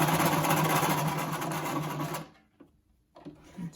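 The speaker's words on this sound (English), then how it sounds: "and stitch over it a few times." A sewing machine stitches elastic onto a cloth face mask, a fast loud mechanical whir for about two seconds, then stopping, followed by a few faint handling sounds.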